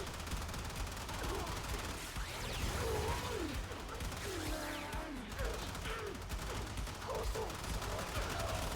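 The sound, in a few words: gunfire in the video game Warframe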